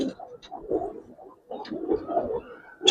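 Giribaz coloring pigeons coo in a loft, soft low murmuring calls repeating in bursts at close range, with a brief pause midway and no talk.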